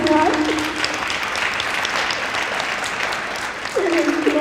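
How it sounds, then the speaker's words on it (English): Audience applause for city council candidates at a candidates forum, a sustained dense clapping crowd filling the room, steady and fairly loud, with a voice speaking briefly at the start and end. "I think they all deserve a round of applause."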